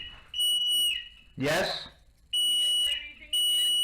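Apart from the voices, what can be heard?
fire alarm going off in a building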